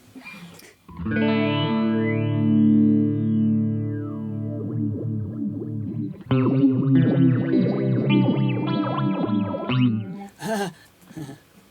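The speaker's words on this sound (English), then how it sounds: "Our dual phaser model gives you the lush offset phasing" Electric guitar through a Line 6 MM-4 dual phaser, sweeping, swirling phase effect, first a held chord, then a run of picked notes, loud and close.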